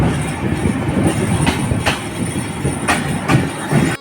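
A Drutojan Express train rolls into Tangail railway station, wheels clattering steadily over the rails with occasional squealing bursts, loud and close, heard from inside the train with no talking.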